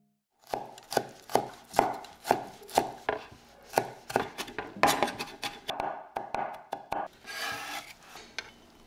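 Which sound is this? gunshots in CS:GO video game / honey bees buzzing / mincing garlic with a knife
mincing garlic with a knife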